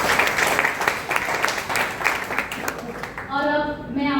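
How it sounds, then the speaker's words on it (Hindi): Hearty applause at a railway board poetry gathering, a dense burst of clapping over a few seconds, with a voice speaking as it tapers off. "एक जोरदार तालियां"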